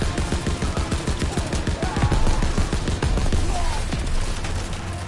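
Rapid machine-gun fire from a World War II shooter game, dense bursts of shots running continuously and loud, with booms and battle noise mixed in.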